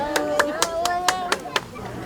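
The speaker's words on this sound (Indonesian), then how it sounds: "tepuk tangan buat Pak Pramuji" About seven distinct claps from an audience at a religious gathering, evenly spaced over steady talk and a sustained tonal voice or music underneath.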